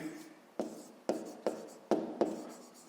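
Chalk or marker writing on a board during a fifth-grade math lesson, a series of about six quick strokes and taps in an uneven rhythm in a quiet room.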